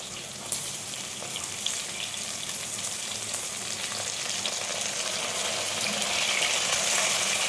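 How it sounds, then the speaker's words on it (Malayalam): Okra sizzles and fries steadily in a pan with onion and green chilli added for a curry, a continuous close crackle that grows slightly louder toward the end, with no talk. "ഈ സമയം നമുക്ക് ഇതിലേക്ക് സവോളയും പച്ചമുളകും ഇട്ടു."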